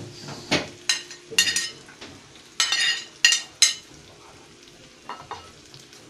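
Sizzling frying pan of saltfish and butter yam as tomatoes go in, with repeated scraping and clinking of a utensil against the pan, a few loud stirring clatters over a steady close sizzle.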